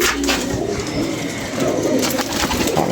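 Domestic pigeons coo steadily over a constant background hum, with the soft throaty calls overlapping throughout.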